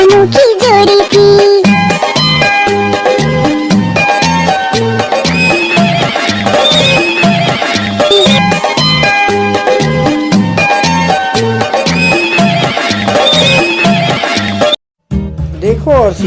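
Horse neighs and steady clip-clopping hooves run through a Hindi children's phonics song about a horse and a mare, loud and rhythmic under bright music and singing, cutting off abruptly near the end.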